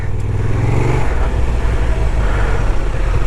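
A Honda Transalp 750 motorcycle accelerates off-road, its engine giving a loud, close, rough rumble that rises and churns steadily throughout with no talking.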